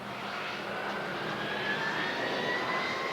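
In a simulated airport scene, a jet airliner taxis along the runway with a steady, loud engine roar and a slowly rising turbine whine that runs unbroken throughout.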